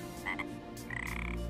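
A frog croaks in a short burst of raspy calls, close and fairly quiet, with no talk.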